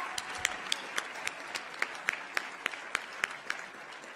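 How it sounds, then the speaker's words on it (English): Audience applause at a university graduation ceremony in Kigali, a steady wash of many hands clapping with sharp individual claps standing out, sustained at moderate volume throughout with no talk. "Another round of applause for Ingazongali."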